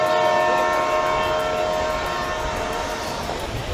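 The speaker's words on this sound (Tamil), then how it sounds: "ட்ரெயின் வரப்போகுதுங்க." A goods train on a mountain railway rolls past close by, a loud sustained rumble with a steady tonal horn-like drone over rhythmic wagon clatter, fading slightly toward the end.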